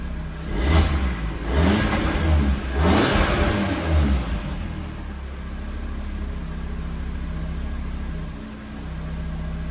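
An Audi RS3 8Y with a modified downpipe revs hard with its exhaust valves closed, giving three sharp, close blips, then settling into a steady idle burble.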